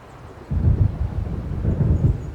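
Thunder from an approaching storm in the game Alan Wake: a deep, rolling rumble that breaks in suddenly and keeps grumbling low and fairly close for a couple of seconds.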